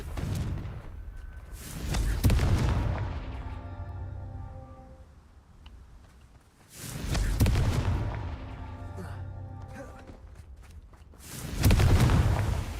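Confringo blasting spells detonating in Hogwarts Legacy, three loud booming bursts spaced several seconds apart, each a heavy broadband blast with a rumbling low end, separated by quieter game ambience.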